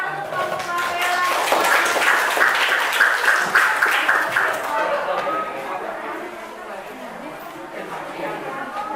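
Classroom applause for a student group called up to present during an Indonesian-language lesson, a steady crowd of clapping hands filling the room, with chatter and a voice speaking over it.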